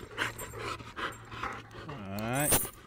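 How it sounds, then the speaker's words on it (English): An older dog pants rapidly in close, rhythmic breaths, then lets out a drawn-out whine near the end, with someone talking over the sound. "This right here is my oldest dog."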